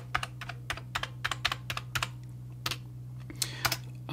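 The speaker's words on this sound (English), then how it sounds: "I can at least type, which lets me know the keyboard works." Keys clatter on an Amiga A600 computer keyboard, a quick uneven run of sharp clicks and taps, close and clear over a faint steady electrical hum.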